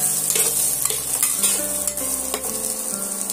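Potato and capsicum pieces sizzle and fry in hot oil while a spoon stirs them in the pan, with steady crackling and a few scraping strokes, close by and without talk.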